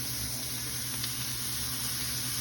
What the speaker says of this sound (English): Put my mushrooms in here and saute them.